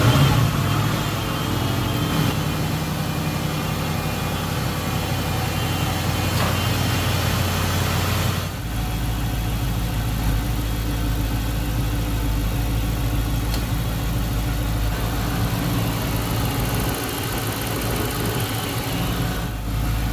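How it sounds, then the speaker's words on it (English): A 2007-or-later Dodge Charger 6.1L V8 idles steadily while warming up, a constant deep rumble with a faint mechanical whir, close and continuous throughout without talk. "we're gonna let this engine warm up"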